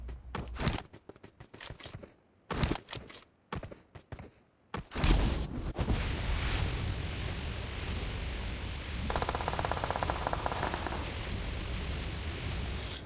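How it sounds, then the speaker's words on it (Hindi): Video game gunfire: a cluster of sharp, irregular shots and bursts up front, then a steady noisy wash of in-game ambience. "मुझे जैसे सामने से फायरिंग की आवाज़ आती है"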